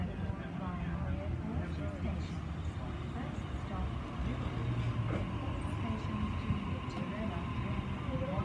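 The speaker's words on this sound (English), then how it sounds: "Treasure train is arriving." A train arrives at a station near Padstow, a low, continuous rumble held at a moderate distance beneath people talking.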